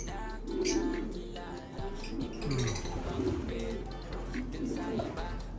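Pigeons coo in a loft holding young birds, low murmuring calls repeating through the clip with some chirps and a steady background hum.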